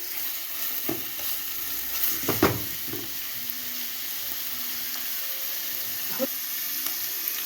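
Onions and meat softly sautéed in a pan for a pea dish, faint frying sizzle with a few scraping spoon stirs, quiet and close.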